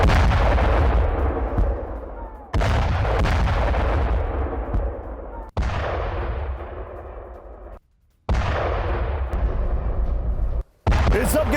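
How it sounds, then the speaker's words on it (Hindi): Air strike explosions in Lebanon roll out as a series of heavy booming blasts. Each long rumble decays over a few seconds, and the blasts are separated by abrupt cuts and brief silences. "लेबनान के जारमात में बड़ा एयर अटैक हुआ है"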